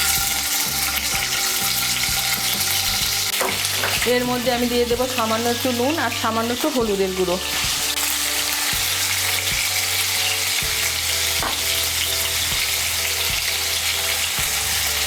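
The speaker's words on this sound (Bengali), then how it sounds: "তেলটা আমার গরম হয়ে গিয়েছে, এর মধ্যে প্রথমে আমি পনিরগুলো ভেজে নেব।" Paneer sizzles steadily in hot white oil in a wok, a loud continuous frying hiss with occasional stirring scrapes, while someone talks over it.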